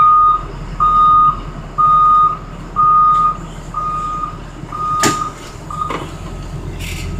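A Connecticut school bus sounds its reversing alarm while backing up during a pre-trip inspection, giving five loud, evenly spaced beeps over a low engine rumble, followed by fainter clunks and mechanical noises.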